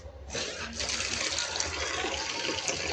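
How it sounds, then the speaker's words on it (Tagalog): Strong water gushes from a pipe during a home leak repair, a steady hissing rush that starts abruptly and flows continuously at moderate loudness, close by. "So malakas tubig dito."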